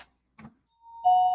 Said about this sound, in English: Hit the doorbell.